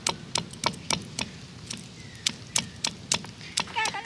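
Garlic cloves are crushed by hand for a home remedy, about a dozen sharp, irregularly spaced pounding thuds close by, with a short voice near the end.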